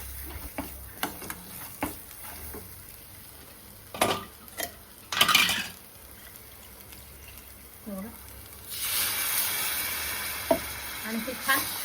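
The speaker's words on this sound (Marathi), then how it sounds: "आता याच्यामध्ये मी पाणी घालणार आहे." Water is poured into hot cooked masala in a kadhai, setting off a loud, rushing sizzle late on. Before it come scattered clinks and scrapes of stirring, and a voice talks now and then.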